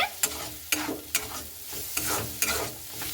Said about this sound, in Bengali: তো ঢাকনাটাকে উঠিয়ে খুব ভালো মতো করে নাড়াচাড়া করে নিচ্ছি।